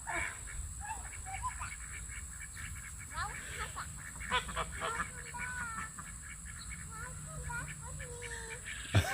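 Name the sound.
geese honking on a farm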